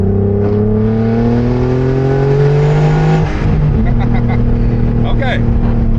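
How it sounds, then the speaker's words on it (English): A turbocharged BMW E36 accelerates gently, its engine rising in a loud, close drone with climbing harmonics, then a brief shift in tone and a few sharp chattering bursts as the wastegate opens. "We're just gonna slow roll into it, make sure wastegate opens."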